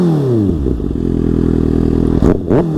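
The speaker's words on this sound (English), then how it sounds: "And here's a couple of rev bombs." Kawasaki ZX6R with a LeoVince exhaust, throttle dropping back to a close, loud, steady idle, then two sharp rev bombs that spike and fall away quickly.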